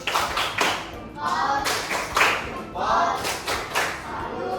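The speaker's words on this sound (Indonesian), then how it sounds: "Kita kasih tepuk salut dulu." A class of elementary schoolchildren performs a patterned 'tepuk salut' clap, sharp unison claps grouped in a repeating rhythm with short rubbing or patting passages between them, close and loud.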